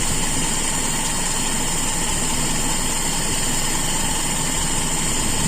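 A carbureted engine runs at steady revs close up, a constant mechanical drone while the carburetor air screw is adjusted to find the highest idle speed.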